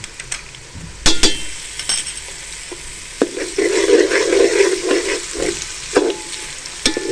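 Garlic and ginger paste frying with onions in a pan for a fish majboos, a steady sizzle building midway with intermittent scrapes and clinks of a spoon stirring, close and fairly loud with no talk.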